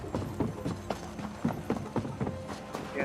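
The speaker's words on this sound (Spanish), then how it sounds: "Voy a seguir al caballo." Horse hooves clip-clop in a steady, rhythmic trot in The Elder Scrolls Online, each hoofbeat sharp and fairly close over a low in-game ambience, with no talking.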